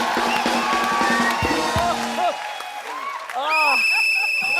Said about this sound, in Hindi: ताली मारेगी।